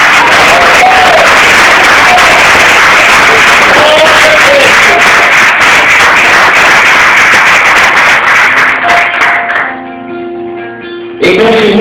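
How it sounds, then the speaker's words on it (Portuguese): A church congregation applauds during a sermon: dense, steady clapping fills most of the stretch, then thins and stops near the end. "Só para ele, aplauda ele."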